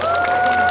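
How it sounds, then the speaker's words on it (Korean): A magic show audience claps in a brief burst of dense applause, with steady background music sustained underneath. "이거 수준 높으신 분들 박수 쳐주세요"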